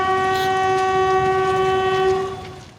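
A train horn sounds loud and close as one long, steady sustained blast, then cuts off near the end, with no talking.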